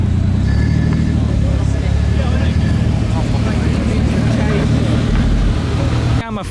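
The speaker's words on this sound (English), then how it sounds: "We have a second Chaser here tonight." A modified Toyota Chaser drives past at night outside a car show, its engine rumbling loud and close over crowd noise before cutting off abruptly near the end.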